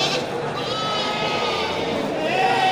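A female breeding goat at a livestock market gives a drawn-out, wavering bleat, with a second shorter bleat near the end over busy crowd murmur and talk.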